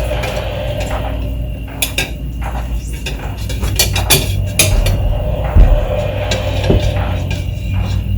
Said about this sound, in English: So he's mixing the egg, but they won't mix.